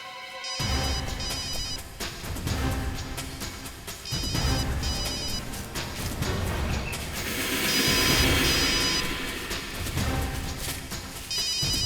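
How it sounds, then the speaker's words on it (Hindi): A mobile phone ringtone plays its repeating electronic ringing pattern over a tense dramatic music score, fairly loud and continuous for the whole stretch, with no voices. "दया का फोन बज रहा है।"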